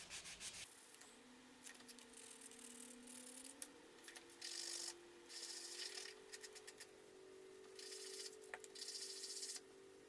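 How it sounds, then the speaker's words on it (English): Hand sanding a carved pine pipe tamper with 800 grit sandpaper, quiet close rubbing strokes in short bursts alongside a faint steady motor hum. "now I'm going to get the 800 out and just do some final buffing"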